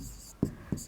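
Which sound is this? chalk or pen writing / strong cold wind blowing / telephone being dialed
chalk or pen writing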